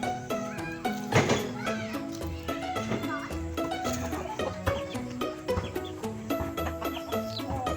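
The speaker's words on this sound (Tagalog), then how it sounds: "ito na yung manok kanina na prank ni Pariwakang sa akin" Chickens cluck and squawk close by amid a busy jumble of other sounds and background music, with voices talking now and then.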